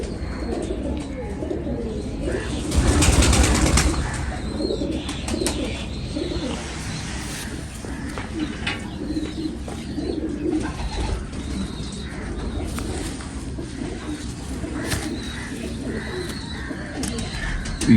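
Pigeons coo softly and repeatedly nearby over a noisy outdoor background, with a brief louder rustling burst partway through.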